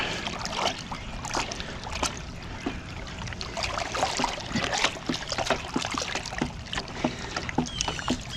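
Pool water being stirred by hand right after a measured dose of chlorine chemical is poured in, giving close, steady sloshing and small splashes with soft trickles throughout, no talking.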